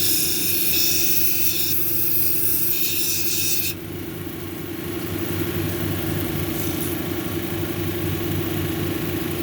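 A lapidary machine grinds a leopard skin jasper cabochon at 220 grit, its motor humming steadily nearby while a bright, hissing grinding sound fades partway through.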